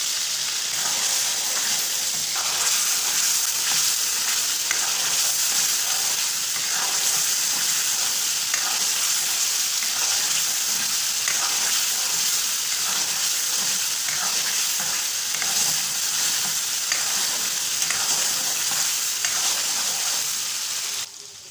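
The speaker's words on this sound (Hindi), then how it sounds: "आपने देखा होगा होटलों में कैसे आग के शोले निकलते रहते हैं, ऐसे ही इसकी भुनाई होती है" Mutton karahi fries hard over a full, high flame, giving a loud, continuous sizzle and hiss with bubbling spatter. It stays steady until it tails off at the very end.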